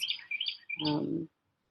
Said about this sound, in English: the songs of the birds that that join our songs